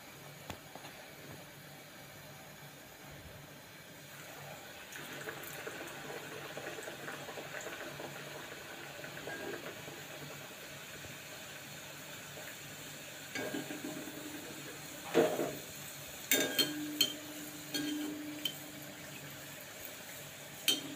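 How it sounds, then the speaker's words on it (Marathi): Coconut-filled karanji pastries frying in hot oil, a quiet, steady bubbling sizzle with occasional louder clinks and scrapes of a utensil toward the end, no talking. "सगळ्या करंज्या आता व्यवस्थित तळून घेऊया."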